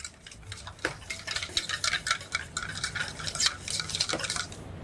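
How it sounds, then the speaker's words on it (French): Melted chocolate and butter stirred gently into beaten eggs and sugar in a bowl: continuous close scraping and light clinking of a utensil against the bowl, with a few soft ticks. "On l'incorpore dans les œufs et le sucre. Voilà, tout doucement, sans cesser de remuer."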